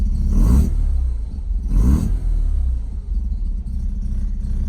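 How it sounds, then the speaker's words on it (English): A 12A rotary engine, still cold after its first start, blips up in two sharp revs that each drop straight back to a steady, close idle rumble. "it revs up and it goes right back to idle just fine"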